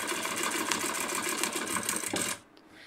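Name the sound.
domestic sewing machine free motion quilting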